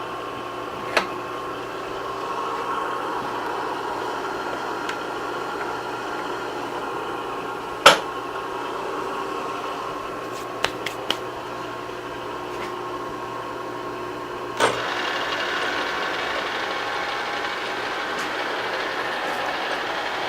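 A Bridgeport milling machine runs just after being taken out of back gear, a steady mechanical hum and whine with a few sharp clicks and taps over it.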